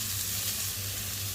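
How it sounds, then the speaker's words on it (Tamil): Marinated fish frying in oil on a tawa, a brief, steady close sizzle with a soft continuous hiss and no voices. "மிக்ஸ் பண்ணி வச்ச மீன் எல்லாத்தையுமே சேர்த்தாச்சு"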